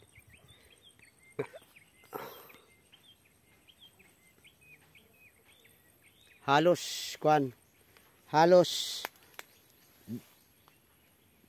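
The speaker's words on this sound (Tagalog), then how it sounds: "boses lang ng ibon ang madidinig mo pag maga, hapon, yan, boses ng ibon" Birds calling outdoors in a quiet rural yard, a few short chirping bursts spaced apart, moderately near, against a faint steady insect hum, with a person speaking briefly.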